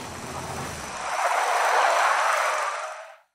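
A sound-design effect for a wheeled or caterpillar-tracked vehicle: a single broad, rushing rumble that swells past and then cuts off sharply, heard alone.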